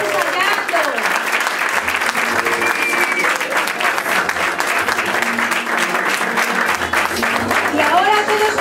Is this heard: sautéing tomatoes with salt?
no